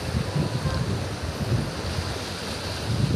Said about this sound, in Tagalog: the big wave.